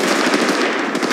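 Rapid automatic gunfire from the Apex Legends Mobile video game rattles off in one loud, unbroken burst of closely spaced shots, with no voices.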